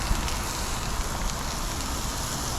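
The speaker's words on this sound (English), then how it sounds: "Saute those up nice and good." Onions sizzle on a hot Blackstone griddle, a steady, fairly loud hiss and crackle lasting a few seconds, with no talking.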